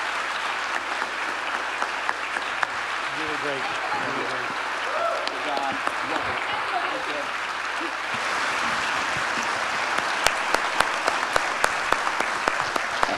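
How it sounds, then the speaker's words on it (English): Standing ovation applause for a speaker at an Ignite Seattle talk: sustained, dense clapping from a large audience throughout, with sharper individual claps standing out near the end and a few people calling out praise over it. "you got a standing ovation"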